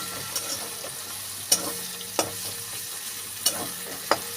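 Ridge gourd fries in a pan with poppy seeds under a soft, steady sizzle, punctuated by about five sharp clinks of a spatula stirring at irregular intervals.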